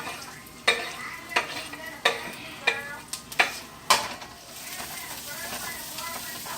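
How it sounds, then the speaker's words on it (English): Garlic and onions are sautéed in a hot Dutch pan, with a steady sizzle and a run of sharp, evenly spaced utensil clacks against the pan. "I'm going to saute these garlic and the onions up in here a little bit."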